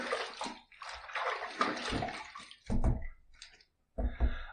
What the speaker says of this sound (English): Okay, first pass done, let's rinse.